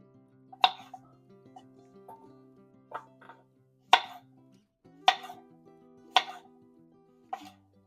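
Knife slicing unpeeled pickling cucumbers for no-vinegar refrigerator pickles, heard as five or six sharp, close chops spaced about a second apart, with quiet gaps between strokes.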